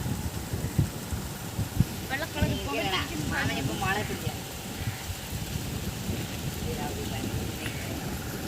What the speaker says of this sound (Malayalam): മഴ പെയ്ത് വരുന്നുണ്ട്.